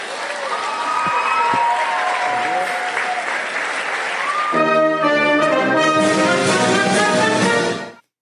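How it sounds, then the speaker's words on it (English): A crowd claps loudly at a political speech, dense sustained applause joined by scattered cheers and voices, with music rising underneath halfway through before everything cuts off abruptly. "why are people clapping?"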